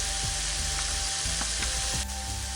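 Coriander powder sizzles in a pan for prawn malai curry: a constant hissing fry close up, with a few quick scrapes of a stirring spoon.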